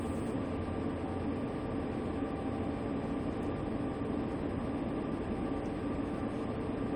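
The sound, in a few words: tanker freight train passing in a train simulator video game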